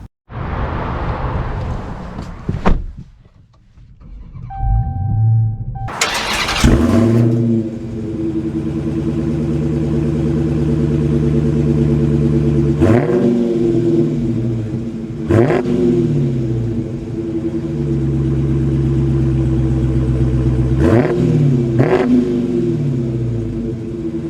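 A 2022 Dodge Charger Hellcat Widebody engine starts with a sharp bark, then settles into a steady, loud, deep idle with a few throttle blips rising and falling.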